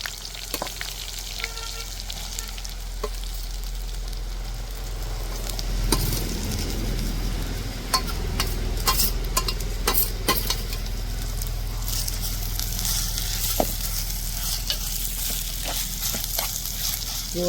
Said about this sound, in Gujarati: જો આપણે ઘીમાં હળદરને શેકવાની છે